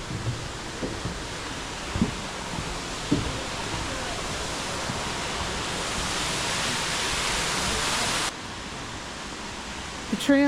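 Waterfalls at Watkins Glen State Park, a broad, steady rushing roar of falling water close by, with faint footsteps or knocks underneath and a sudden drop in level near the end.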